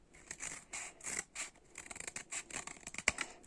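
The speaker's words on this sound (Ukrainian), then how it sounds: "в іншу ручку беремо ножиці і починаємо. Спочатку обрізаємо кути." Scissors snip the corners off a piece of paper in quick, quiet, irregular cuts, close up with faint rustling and scraping between snips.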